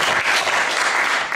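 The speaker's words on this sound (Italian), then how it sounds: "per cui chiederei un applauso," An audience at a book event bursts into brief, loud, continuous clapping that fills the whole moment, with no talking heard over it.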